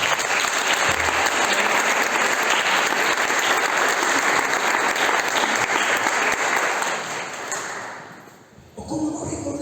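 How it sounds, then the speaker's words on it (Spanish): A church congregation bursts into loud, sustained applause at a pastor's call, dense clapping that fills the room for about eight seconds before fading briefly and picking back up. "Fuerte el aplauso."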